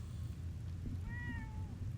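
A pet cat gives a single clear meow over a steady low background hum, with no voices.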